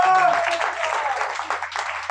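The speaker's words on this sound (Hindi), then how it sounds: "जिंदा खुदा के लिए जोरदार तालियां बजाएं" Church congregation applauding together, a steady broadband wash of clapping with a voice or tone briefly audible at the start, moderately loud and continuous throughout.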